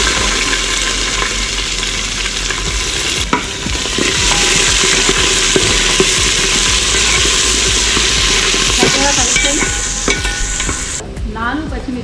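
Onions sizzle and crackle in hot tempering oil with bay leaves and chana dal, a steady loud frying hiss with occasional stirring clatter close up.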